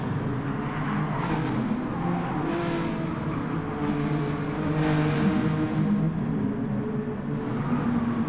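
Race cars circulate on track as one leaves the pits on fresh super soft tyres, engines droning and whining steadily with repeated swelling passes at moderate distance, no voices.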